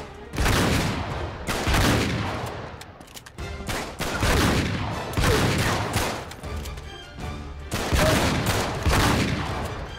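Gunfire in the video game Uncharted 3: Drake's Deception Remastered, including a pump shotgun, with loud bursts of rapid shots in repeated volleys separated by brief pauses.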